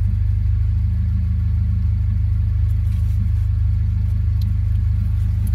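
A 1995 Honda Civic engine idles with a check engine light on, holding a steady, loud, low rumble with an even pulsing throb that continues unbroken throughout.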